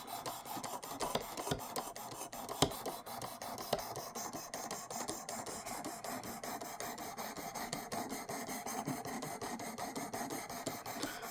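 Demko SharkCub knife blade drawn across a 600 grit sharpening stone, a continuous fine rasping scrape with quick repeated strokes, close and steady, no talk.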